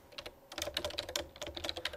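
Rapid typing on a computer keyboard, a close, quick run of crisp individual key clicks in an uneven rhythm with a short pause near the start.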